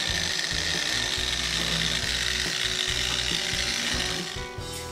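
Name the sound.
Griot's Garage 3-inch polisher wet sanding panel with 3000 grit sandpaper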